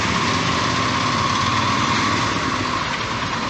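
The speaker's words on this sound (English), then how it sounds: "There's a motorcycle behind me, a motorcycle in front of me." Motorcycle engine droning steadily while riding through Hamburg among other motorcycles, a loud, constant high-revving buzz close by, with no talk.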